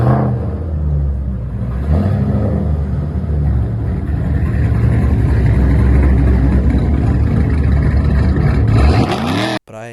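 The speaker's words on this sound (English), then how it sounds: "With the exhaust unbolted from the headers, it's an interesting sound that comes out of that engine." A loud, rumbling 289 V8 engine in a 1968 Mustang idling roughly with exhaust unbolted from open headers, lumpy and throaty throughout, revving slightly before cutting off abruptly at the end.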